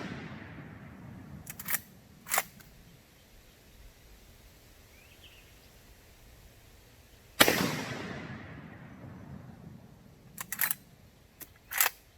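A gunshot from a rifle fitted with an Extreme Penetrator round, aimed at a bowling pin and a 2-liter bottle, rings out once sharply and close, with a few lighter clicks and handling noises before and after in a quiet outdoor setting.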